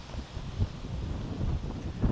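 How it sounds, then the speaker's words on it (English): Wind buffets the microphone in a steady low roar with gusty surges, no voices, outdoors in Glacier National Park. "Pretty windy, hope you can hear me."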